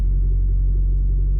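A Saab 9-5 Aero with a coolant leak rumbles low and steady as it creeps up onto ramps, a dense, close engine drone with no voices.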